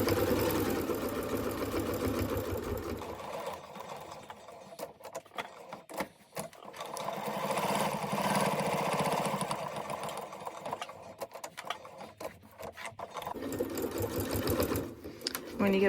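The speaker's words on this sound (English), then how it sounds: "I'm just using a straight stitch." A sewing machine runs a straight stitch across fabric coasters in a steady mechanical whir with rapid needle ticking, briefly pausing and restarting, with a person talking over it.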